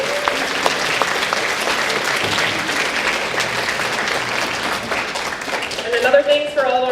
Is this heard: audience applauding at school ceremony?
yes